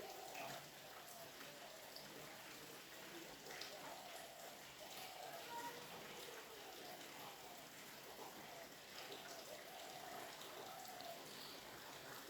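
Heavy rain falls steadily outside a kitchen where pigeon curry with jackfruit seeds is cooking, a continuous dense hiss of drops on surfaces persisting throughout without pause.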